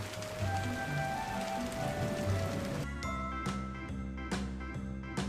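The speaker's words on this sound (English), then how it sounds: "Oh no, it sounds like it's going to rain." Steady rain patters loudly on a surface, a dense hiss that continues throughout, with a few sharper clatters and thumps in the second half.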